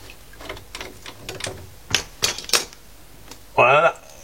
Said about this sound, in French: Je desserre l'écrou du haut.